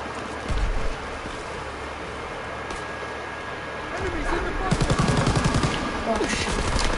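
Custom gun firing in a first-person shooter video game, bursts of rapid shots with a denser volley near the end, over a noisy background with chatter.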